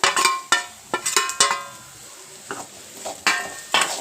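Drumstick pieces (moringa pods) already fried in oil are stirred in a pan, giving sharp metallic scrapes and clinks in an irregular rhythm over a faint sizzle, close by and alone.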